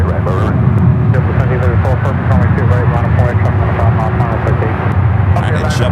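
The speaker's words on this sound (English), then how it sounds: "JetBlue now rocking and rolling down to 28 left." A JetBlue jet rolls down runway 28 left at San Francisco airport for takeoff, its engine roar a steady broad rumble throughout, with radio chatter and talk layered over it.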